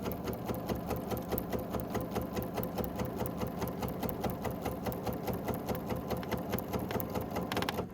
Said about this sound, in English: we're just going to stitch nice and straight using the corner of our block here in that line to keep us on track